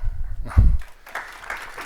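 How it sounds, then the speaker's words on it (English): Audience applause in a conference hall during a session on AI, a broad wash of clapping that builds after a brief thud and continues steadily to the end. "You are clapping for yourselves."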